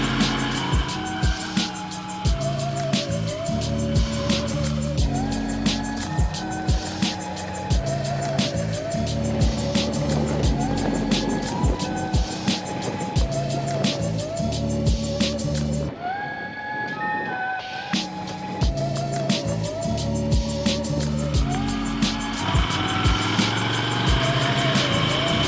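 A motorcycle rides along a woodland track, its engine droning steadily and rising and falling through gear changes, with a brief drop in engine noise partway through before it picks up again.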